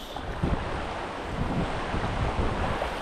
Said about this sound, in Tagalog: Toy, malakas ang agos.